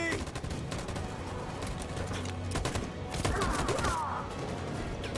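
Machine gun fire rattles in sustained bursts through a battle in Detroit: Become Human, dense fusillade layered with thuds and chaotic combat noise, loud and close throughout.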